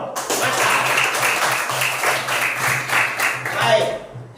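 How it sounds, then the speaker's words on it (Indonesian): Group clapping from a class or gathered audience during an Indonesian lesson, a fairly steady burst of many hands lasting a few seconds, with voices mixing in underneath before it tapers off. "Tepuk tangan untuk kita dulu."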